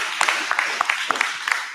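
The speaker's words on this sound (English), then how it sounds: "let's give them a round of applause" Applause for a NAMI DuPage grant award at a press conference, heard as a thin, steady wash of hand clapping with scattered louder individual claps, moderately close, about two seconds long.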